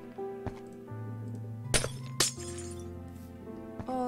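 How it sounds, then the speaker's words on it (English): Glass breaking in the video game Minecraft, two sharp shattering crashes about half a second apart amid soft clicks and tones from the game, close and distinct with no talking. "Oh, the sound of glass breaking."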